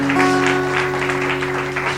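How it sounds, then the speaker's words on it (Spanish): A church congregation applauds to honor the King during a worship service: steady, dense clapping fills the whole stretch, with a sustained held tone running beneath it. "Dele ese aplauso al Rey"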